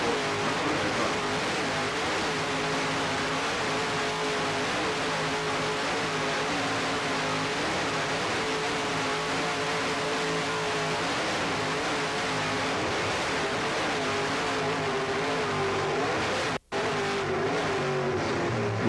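An offshore racing powerboat with twin 950 horsepower Sterling inboard engines roars continuously and loudly, its pitch rising and falling as the throttle varies, with one abrupt momentary dropout near the end.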